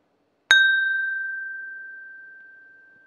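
Whisky glasses meet in a single bright clink, a clear ringing ding that hangs and slowly fades for a few seconds in an otherwise quiet room.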